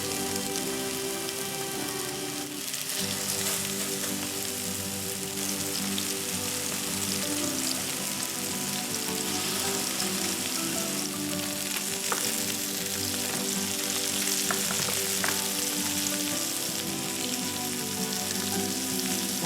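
A burger patty sizzles steadily on a hot oiled grill, a dense, even crackle that carries on without a break and with no talking.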